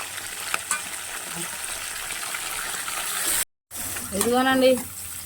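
Green chillies sizzle in hot tempering oil as bitter gourd fry is prepared, a steady crackling fry with stirring, briefly cut off, then someone speaks over it.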